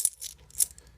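A few bright metallic clinks of silver coins knocking together, quick and close, ringing briefly between strikes.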